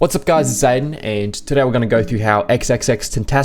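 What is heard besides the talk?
No distinct noise like a dog, phone or traffic.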